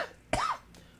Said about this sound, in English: now I cough and people are terrified